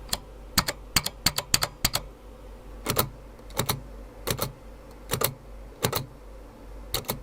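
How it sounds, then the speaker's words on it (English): Clicky keys on an Apple Extended Keyboard II are struck in quick bursts and then in slower spaced pairs, crisp and close-up, against a quiet room with no talking. "They have a sort of grainy but clicky feel to them, and it's a very satisfying keyboard to type on."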